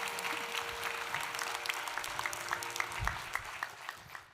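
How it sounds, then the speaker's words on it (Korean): A church congregation at a Sunday worship service breaks into sustained, dense applause, a steady wash of many hands clapping that carries on for several seconds. "자, 우리 박수로 축하하겠습니다."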